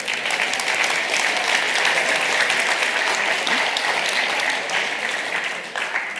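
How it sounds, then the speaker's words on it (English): A comedy show audience gives themselves a round of applause, a dense and loud wash of clapping that continues steadily for several seconds before easing slightly. "Give yourselves a round of applause."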